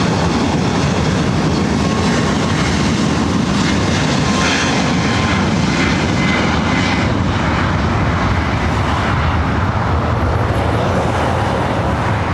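Heavy China Airlines jet landing on runway 24R at LAX: a loud, continuous engine roar with broadband rushing noise dominating throughout, sustained and close, with no talk.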